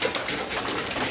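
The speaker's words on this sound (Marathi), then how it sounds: "बारीक पडतोय, रिमझिम पाऊस आहे।" Light drizzle falls steadily in the Konkan countryside during the first rain of the season, a soft, even wash of fine patter with no voices.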